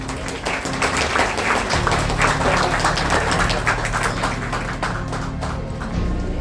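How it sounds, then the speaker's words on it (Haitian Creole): An audience at a celebration for a performing troupe's 100,000-subscriber milestone claps together in a dense, continuous wash of applause that holds steady for several seconds without speech. "Applaudissez s'il vous plaît."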